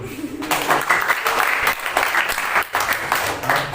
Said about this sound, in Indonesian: Tepuk tangan untuk diri saudara lagi.